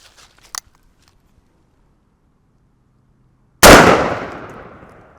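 A single deafening gunshot from a Taurus Raging Hunter .460 S&W Magnum revolver fired at a lock, a sharp blast with a long ringing decay, preceded by a few faint clicks.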